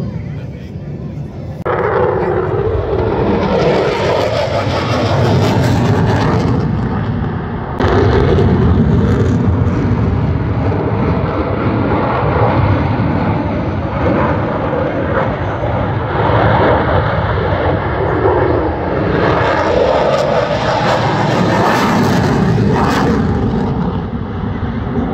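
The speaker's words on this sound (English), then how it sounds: "This is the F-16, I think." An F-16 fighter jet flies overhead at the Malta International Airshow, its engine roaring loud and sustained with swelling passes, while spectators talk nearby beneath the noise.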